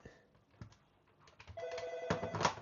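An Avaya IP Office phone gives a faint intercom ring, starting with soft clicks and taps and building to a clearer ringing tone near the end.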